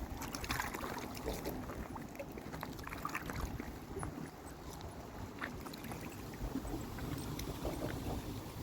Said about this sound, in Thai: มาอีกแล้วค่ะเรือใบ